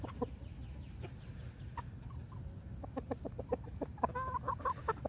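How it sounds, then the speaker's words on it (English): A young rooster clucks in short, soft bursts, with a few squeaky calls near the end over a low outdoor rumble. "There's the baby rooster."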